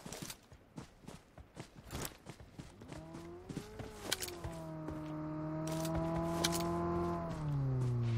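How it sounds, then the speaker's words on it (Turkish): Vehicle in PUBG driving closer, with its engine note swelling from faint to loud and rising, then holding steady and dipping near the end, after a run of footsteps and scuffs. "Bu aşağıdan bir araç geldi"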